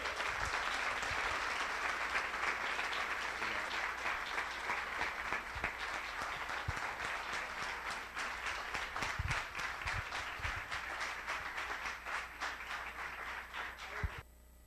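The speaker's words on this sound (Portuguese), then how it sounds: "As palmas são para o Senhor" A church congregation applauds for the Lord in a long, steady wash of dense clapping that holds at an even level, with a few louder individual claps standing out before it tapers off near the end.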